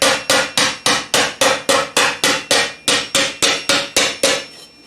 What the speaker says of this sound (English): I lightly hammer it out.